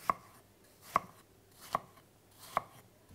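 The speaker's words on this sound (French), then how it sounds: "Nous allons ensuite éplucher nos pommes, enlever les pépins et on va pouvoir les couper en lamelles" A knife cuts apples into thin slices for an apple tart, striking a board four times in a steady, even rhythm with crisp, close knocks and no voices.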